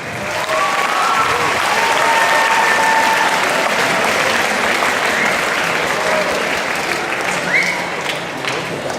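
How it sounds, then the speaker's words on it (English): Secondary school audience at a World Water Day presentation clapping for a demonstration, a full sustained burst of applause with crowd noise and a few voices and whoops mixed in, slowly easing. "So a round of applause for the demonstration"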